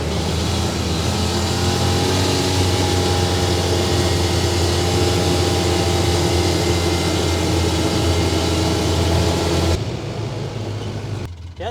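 A Polaris Ranger 800 AWD utility vehicle with an oil leak drives along, its engine a loud, steady drone with low rumble that cuts off abruptly near the end, followed by quieter running.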